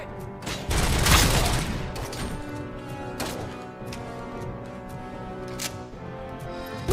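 Enemy gunfire in Robocop: Rogue City, a loud burst of rapid shots early on followed by scattered sharp cracks and mechanical clatter at moderate volume.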